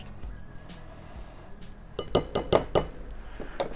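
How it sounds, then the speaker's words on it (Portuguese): Metal utensil clinks against a bowl while sifted passion fruit cake ingredients are gently mixed, starting soft and turning into a quick burst of sharp taps and scrapes near the end. "Agora a gente vai dar só uma misturada aqui, de leve, para todos ficarem"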